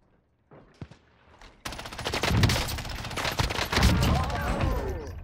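Rapid automatic gunfire in the Call of Duty Cold War Warzone video game, loud dense bursts of shots following a few quieter isolated pops, with a voice faintly present underneath.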